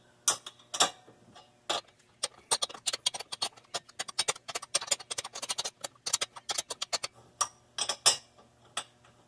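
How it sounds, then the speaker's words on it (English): A box end wrench tightens the rear brake caliper bracket on a Pontiac G6, giving rapid, irregular metallic ticks and clicks close up, in quick bursts with brief pauses. "I'm going to tighten up the bracket."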